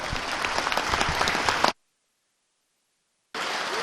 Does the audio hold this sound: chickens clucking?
no